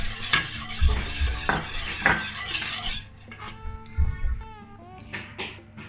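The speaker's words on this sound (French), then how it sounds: "je rajoute mon sucre en mélangeant bien sûr" A spoon stirs sugar into a béchamel dessert in a pot, with rhythmic scraping and clinking against the metal, close and clear, over a faint simmer.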